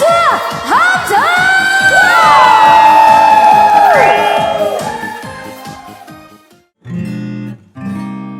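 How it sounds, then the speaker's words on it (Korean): A concert audience at a mini concert claps and cheers loudly over strongly pitched sustained vocal or instrumental tones, followed by a brief lull and then further bursts of crowd noise. "다 같이 박수 함성"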